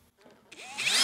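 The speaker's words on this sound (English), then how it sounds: "Now there you can see I drilled from the back" Power drill boring a hole from the back of a legrest cover, heard as a brief, close whine that spins up and grows louder over about half a second.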